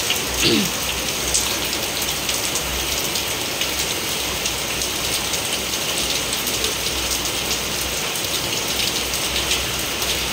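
Heavy rain pours in a dense, steady hiss for the whole stretch, loud and close with a rattling patter on surfaces, and no clear talk over it.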